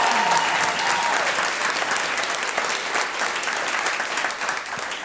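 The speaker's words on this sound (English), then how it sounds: "give us a round of applause if you have heard the show before" A live comedy podcast audience applauds steadily, dense clapping holding at an even loudness for about five seconds with some cheering mixed in, and no talk over it.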